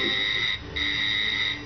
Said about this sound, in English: The irritable pitch of your shop's door buzzer mercifully awakens you from disturbing vision.